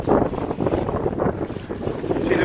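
An O'Day 272 wing-keel sailboat runs on a windy day near Santa Barbara, with loud buffeting wind and rushing water against the hull, close and continuous.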